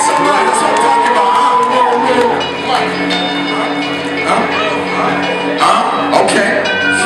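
Crowd noise at a live hip-hop performance, loud and continuous, with cheering, whoops and shouting swelling throughout and scattered voices calling out.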